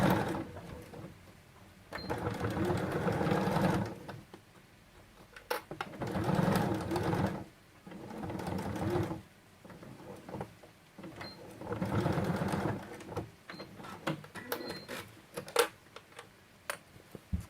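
A sewing machine stitches a fabric pouch with a pocket divider in three or four clattering bursts of a couple of seconds each, separated by pauses and small clicks.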